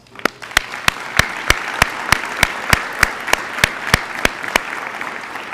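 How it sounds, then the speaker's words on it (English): Audience applause at an alumni Wall of Fame induction ceremony: a steady run of sharp, evenly spaced claps close by rides over a softer bed of crowd clapping for about five seconds, with no talking. "I'm going to ask you to give them one more round of applause"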